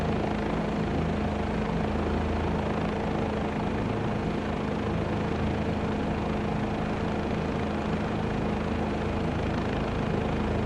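Helicopter hovering in Microsoft Flight Simulator 2024 over a firehouse in Providence, a steady loud rotor and turbine drone with a constant low throb and no letup, alone without talk.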